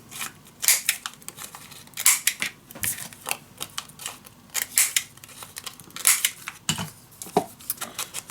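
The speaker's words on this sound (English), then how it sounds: "First I'm gonna cut down the corner." Scissors snip through a paper corner while assembling a junk journal page, giving a series of sharp, close cutting clicks in irregular bursts with quiet pauses between them.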